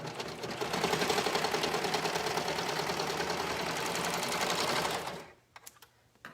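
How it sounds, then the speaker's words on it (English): A serger sewing machine runs steadily, trimming fabric binding on a pair of shorts with its knife, a loud close rapid mechanical whir for about five seconds before stopping abruptly, followed by faint handling clicks. "Give my serger knife a workout."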